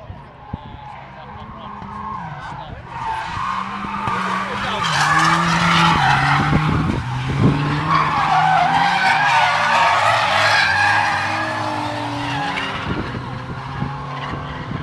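Ford RS500 race car tyres skid and squeal repeatedly on track, with screeching bursts over a revving engine, loud and close, while people talk over the noise.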